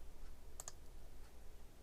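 Two quick computer mouse clicks land close together near the start while working in FreeCAD, crisp and close against a quiet room hiss.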